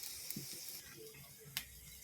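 Pakora fritters deep-frying in hot oil on a low simmer, a steady soft sizzle with faint crackles and a brief sharper pop near the end.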